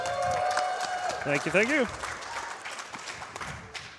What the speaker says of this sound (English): Can we get a cheer from the audience?